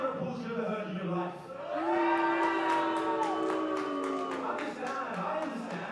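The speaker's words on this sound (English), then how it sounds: "the biggest round of applause you've ever heard in your life" Crowd at a pro wrestling show cheering and whooping for a wrestler's entrance, a steady roar of voices with loud sustained shouts in the middle, under continuous din.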